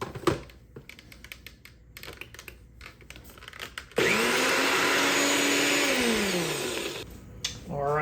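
A small blender cup whirs loudly as it purees half an onion with herbs and spices for chimichurri, a steady motor roar lasting about three seconds and shifting pitch as it runs, between quieter rustling and handling noises.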